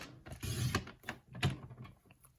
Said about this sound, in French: J'ai une super machine à coudre, elle va me coudre sans problème plusieurs épaisseurs.